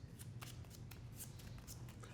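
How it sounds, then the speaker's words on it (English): Quiet riffle of playing cards being shuffled, a run of soft rapid flicks repeating evenly through the whole stretch, near and alone. "We're going to shuffle these up, and we'll get a new round."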